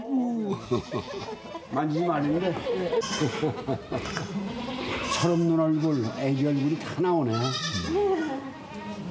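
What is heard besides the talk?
newborn black goat kids bleating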